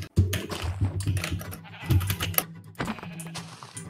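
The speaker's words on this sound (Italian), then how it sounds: "Pecora." Sheep in the Minecraft video game bleat in several wavering cries close by, mixed with quick clicky game noises.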